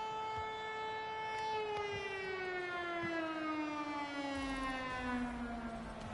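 A loud, steady siren wails throughout, its pitch sliding slowly downward with strong harmonics, heard over a low background murmur.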